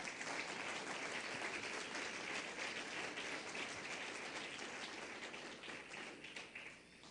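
A church congregation applauds the Lord in a dense, sustained burst of many hands clapping that carries on for several seconds and then tapers off.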